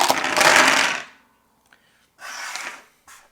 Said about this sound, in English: You shake them around and then you roll them.